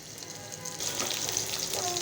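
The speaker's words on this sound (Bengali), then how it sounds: "এই যে পেঁয়াজটাকে ভালো করে ভাজা নিব" Oil crackles gently, then the sizzle swells louder as onions hit the pan and keep frying steadily.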